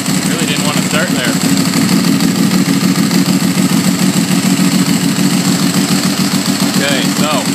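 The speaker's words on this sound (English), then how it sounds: "Fire the bike up. Jeez, really didn't want to start there." A Ducati motorcycle engine runs at a steady, loud idle after a hard start, with a continuous low mechanical drone and a light clatter that hold throughout, while voices talk faintly over it.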